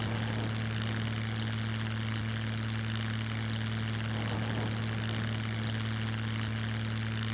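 A small plane's engine in the game SCUM roars at a loud, steady pitch during takeoff in a crosswind, one unbroken propeller drone filling the whole stretch.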